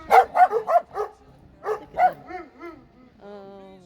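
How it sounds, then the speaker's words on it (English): Small Spanish dogs bark nearby in a quick burst of four sharp yaps, then two more, followed by thin rising whines and a drawn-out whimper. No one speaks. "Small barking Spanish dogs."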